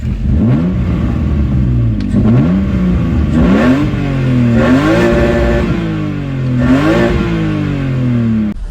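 A chipped BMW E30 with a swapped S50 engine idles and is revved repeatedly, its pitch climbing and falling in several smooth swells, loud and close.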